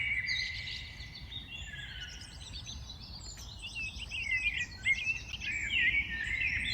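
Birds sing and chirp in a New Jersey park at evening, several overlapping high trills and tweets continuing throughout at moderate distance over a low, steady ambient hum.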